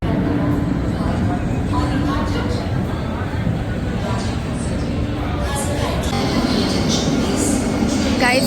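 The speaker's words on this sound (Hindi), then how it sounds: "ये देखो वंदे भारत ट्रेन आ गई।" A Vande Bharat train pulls into a station with a loud, continuous rumble and rolling roar under the chatter of a busy platform, while a person talks nearby.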